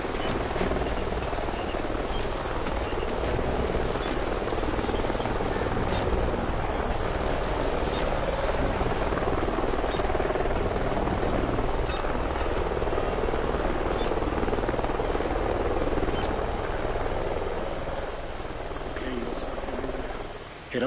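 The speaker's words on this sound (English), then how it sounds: "Sounds like a chopper's up ahead of us." A helicopter in Call of Duty: Ghosts gives off a steady rotor rumble and whine throughout a jungle canyon scene, with voices talking over it.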